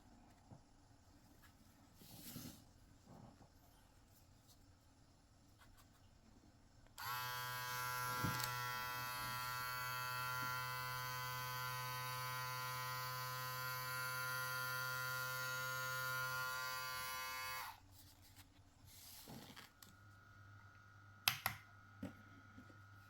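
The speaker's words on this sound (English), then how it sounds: "This should be a very, very good clipper." A Trisan Destroyer electric hair clipper switches on and runs for about ten seconds with a loud, steady, high-pitched motor buzz, then cuts off, leaving faint room noise on either side.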